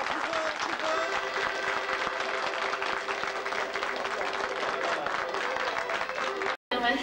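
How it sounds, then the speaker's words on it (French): A crowd at a beauty pageant event applauds, steady clapping mixed with some crowd noise and a voice over it, with music-like tones underneath, cutting out briefly near the end. "Et beaucoup d'applaudissements, plus fort, plus fort."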